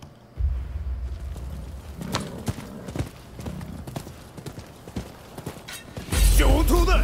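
Horse hooves clip-clop in steady running rhythm in the video game Rise of the Ronin, with a horse whinny and a loud, dense burst of action near the end.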